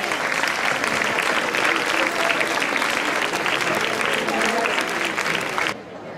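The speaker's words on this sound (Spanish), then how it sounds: "pero un aplauso para ella, por favor." Crowd at a jota folk festival in Alcolea de Cinca claps loudly and continuously after a theatre piece, a dense sustained applause that cuts off abruptly near the end.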